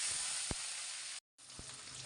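Garlic and green chili frying in oil with black cumin and five-spice seeds, a steady close sizzle with two soft knocks and a brief break in the middle.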